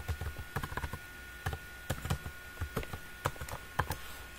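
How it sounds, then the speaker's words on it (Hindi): A computer keyboard clatters as a line of code is typed, quiet keystrokes falling in irregular bursts and clusters with short pauses between. "मैं यहाँ पे एक लाइन का कोड लिख देता हूं"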